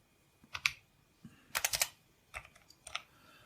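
Keys clacking on an IBM ThinkPad 365XD laptop keyboard from the 1990s, a few short bursts of quick, close, fairly quiet keystrokes separated by brief pauses.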